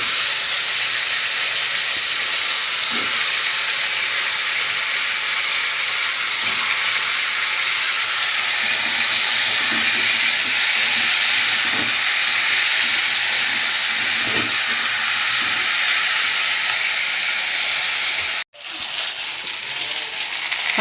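Cut potato, brinjal and flat beans fry together in a hot pan, giving a loud, continuous hiss that stays even for about eighteen seconds before briefly cutting out and resuming.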